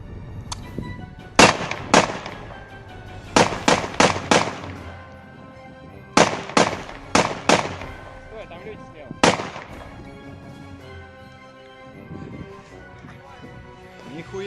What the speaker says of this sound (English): The Russians shoot at a damaged and abandoned Humvee and wonder why the windows don't break.